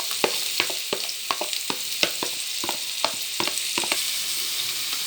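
Onions frying with rice in a pot for Egyptian koshari, a steady close sizzle broken by frequent sharp crackles and pops of spattering oil, with no talking.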